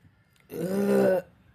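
A woman who feels unwell with gas and a choking sensation lets out a single long, loud burp of about three-quarters of a second, heard alone and close up in a quiet room.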